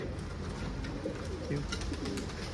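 Pigeons coo softly over a steady, noisy outdoor background, their low murmuring calls repeating without pause.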